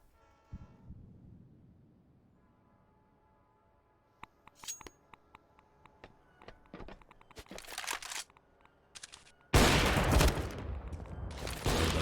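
Counter-Strike gunfire on the Train map: sparse sharp shots crack through the middle of the stretch, then a loud sustained burst of rifle fire takes over near the end, with no talk.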